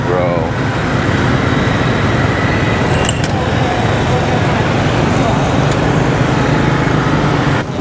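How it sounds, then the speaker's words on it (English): Heavy street traffic in Ho Chi Minh City, near Ben Thanh Market: a dense, loud, continuous roar of engines with a couple of brief sharp clicks and no break in the noise. "God, the traffic here is unmatched."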